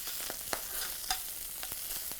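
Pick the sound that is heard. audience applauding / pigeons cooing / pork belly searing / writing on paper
pork belly searing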